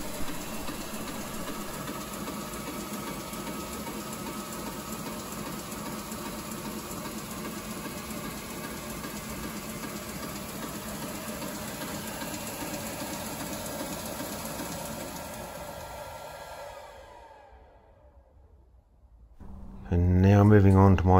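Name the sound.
new workshop machine running up to full speed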